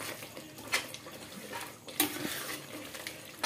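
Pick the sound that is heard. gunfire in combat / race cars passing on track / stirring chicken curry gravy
stirring chicken curry gravy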